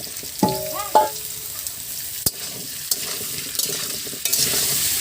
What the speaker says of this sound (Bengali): আলু আর পেঁপেটা আমরা ভালো করে ভেজে নেব।